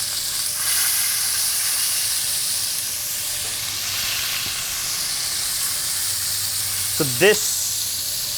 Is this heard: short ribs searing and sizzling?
yes